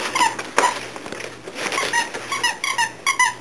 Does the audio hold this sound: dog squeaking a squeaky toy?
yes